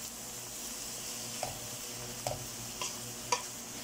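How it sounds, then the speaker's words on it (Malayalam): Onions sauté with a little salt in a pan for fish chukka, a quiet, even sizzle punctuated by four light taps of a spoon against the pan. "ഉള്ളി ഒന്ന് നന്നായിട്ട് വഴറ്റി വരാൻ വേണ്ടി നമുക്ക് ആവശ്യത്തിന് അല്പം ഉപ്പ് ഉപ്പ് ചേർക്കാം"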